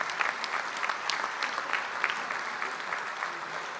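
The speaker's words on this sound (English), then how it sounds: "One more round of applause for all of our previous winners" Audience applause at an industry icebreaker luncheon honoring previous winners, a steady wash of many hands clapping filling the room evenly for several seconds, no voices over it.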